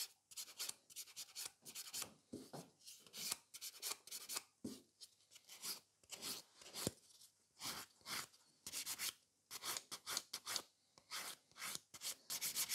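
Short, crisp rasps come from a nail file smoothing a gel nail surface. The strokes are close and quiet, in quick uneven bursts with brief pauses, and no one talks.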